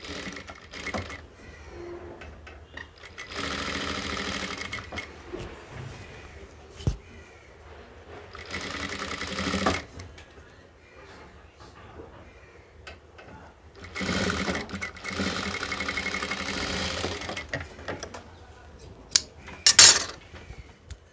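A sewing machine runs in four separate bursts of rapid stitching while attaching a knit rib band to fabric for trousers, with quieter handling clicks and rustles between the runs.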